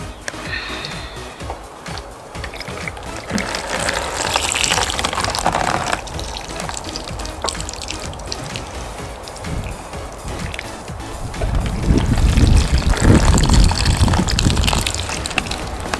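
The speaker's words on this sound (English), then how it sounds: "And then I'm gonna water them." Water runs and splashes steadily onto indoor potted plants for a while, growing louder and fuller toward the end as it gushes and soaks into the soil.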